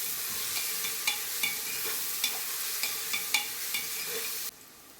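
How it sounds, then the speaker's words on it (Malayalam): Chopped coconut pieces sautéed in a pan, a constant close sizzle marked by regular spatula taps and scrapes, ending abruptly. "ഇനി അതിലേക്ക് കുറച്ച് തേങ്ങാക്കൊത്ത് ഇതുപോലെ അരിഞ്ഞതും കൂടി ചേർത്ത് നന്നായിട്ട് ഒന്നുകൂടി ഒന്ന് വഴറ്റി കൊടുക്കാം"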